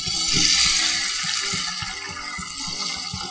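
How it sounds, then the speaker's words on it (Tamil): Oil is poured into a preheated pan before making an omelette, giving a steady, close pouring and liquid hiss that lasts the whole moment with no talking. "இதில் எண்ணெய் ஊற்றிக்கலாம்."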